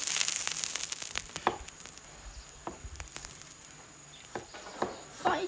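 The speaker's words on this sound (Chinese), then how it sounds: "我们把腊肠炒一炒" Chinese cured sausage stir-frying in a little oil in a pan, giving a soft steady sizzle broken by sharp scattered pops and crackles, fairly quiet and close.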